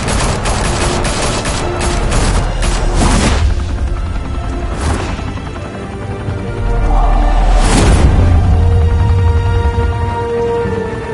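Heavy gunfire erupts in an animated Batman episode, a rapid volley of shots at first, then scattered loud blasts and booms amid a continuous noisy din of battle.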